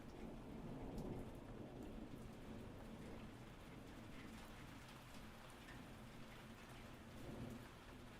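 Steady rain pours in winter with low rumbling thunder rolling through, a continuous dense wash of drops close by with no voices.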